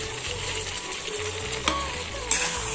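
Meat sizzling and frying in a pan while being stirred, a steady loud sizzle with occasional scraping clicks of the spoon, no talking.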